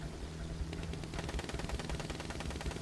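Rapid anti-aircraft gunfire aimed at a plane in the Battlefield 1 video game, a dense, steady stream of bursts close and loud over engine drone, lasting throughout.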